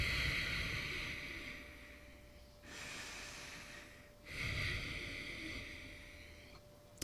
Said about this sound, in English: she would do something called Ujjayi breath